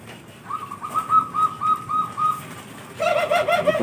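A zebra dove (perkutut talang emas) coos in a series of soft, rhythmic whistled notes, close and clear, followed by a brighter, busier burst of cooing near the end.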